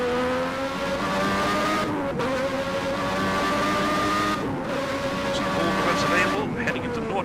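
A 1991 Lamborghini Modena F1 car screams around a lap of the Hockenheim circuit in an on-board ride, its high engine note running loud and steady with short drops at the gear changes. A commentator talks over it.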